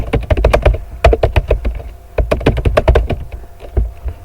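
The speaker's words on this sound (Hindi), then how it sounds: "यहाँ पर हम कुछ भी टाइप कर देंगे" Rapid bursts of keystrokes on a computer keyboard while text is entered in InPage, close and crisp, with short pauses between flurries of clicks.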